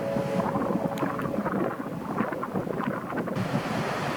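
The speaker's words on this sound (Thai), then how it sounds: "ก็เลยพากันเดินมาชมทะเลยามเย็นอีกรอบหนึ่งนะครับ" Sea waves washing onto the beach at Hua Hin in the evening, a steady full roar of surf mixed with gusty wind buffeting the microphone, continuous and close with no voices.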